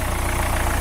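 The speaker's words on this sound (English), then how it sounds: "So the car is running now." A car engine idles steadily with a low, even hum and a faint rhythmic pulse, close and continuous.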